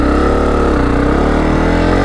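A dirt bike engine revving steadily as the clutch grabs and the bike pulls forward, loud and close throughout, a continuous throbbing drone with a slight change in pitch, and no talking.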